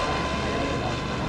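A Goblin 700 RC helicopter on a 12S battery makes a high-speed pass, a loud, dense, steady rushing whine of rotor and motor filling the whole moment, with no voices.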